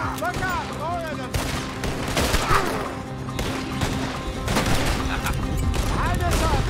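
Gunfire in a Red Dead Redemption 2 street shootout: repeated rifle and revolver shots crack in quick succession throughout, mixed with shouting voices and a steady background rumble, close and loud.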